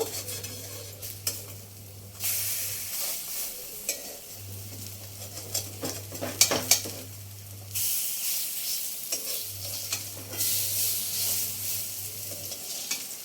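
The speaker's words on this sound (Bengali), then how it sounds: "এইভাবে সব বড়াগুলো ভেজে নেব।" Snake gourd fritters sizzle steadily as they fry in oil, with bursts of stirring, turning and scraping in the pan and a low hum coming and going.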